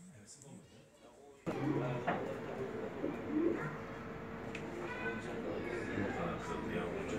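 Pigeons coo during mating, soft repeated throaty coos near the microphone, with people talking quietly over them and a brief clunk at the start.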